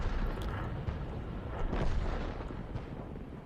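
Tank cannon fire in the World of Tanks video game, a dense rumbling barrage of booming shots and low thuds running continuously throughout, loud and reverberant.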